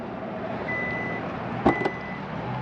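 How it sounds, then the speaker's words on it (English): A 2023 Kia Niro SX Touring HEV power liftgate opens with a thin electronic warning tone, then two quick clunks, all over a steady low background hum. "As you can see, it is a power opening hatch release."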